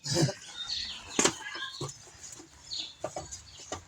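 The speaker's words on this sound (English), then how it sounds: "I shut the door so the birds aren't flying in the garage." Chickens cluck and flap their wings outside a garage where an alternator is being replaced on a 2012 Cadillac SRX, with scattered clucks, rustling flutters and a few sharp calls at moderate distance.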